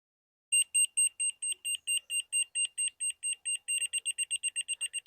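A stud or joist finder emits a rapid series of high, clean beeps, steady at first and then speeding up, close and clear against silence.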